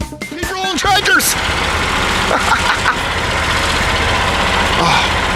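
A ride-on tractor engine hums steadily at a construction theme park, a continuous mid-low drone running the whole time, with brief voices talking near the start.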